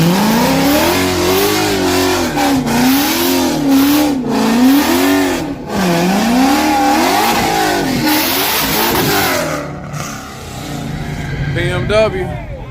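Drag racing cars, a BMW and a Mustang on small tires, rev loudly at a street outlaw event, with rising and falling engine tones over about ten seconds under crowd talk, then easing to a lower drone.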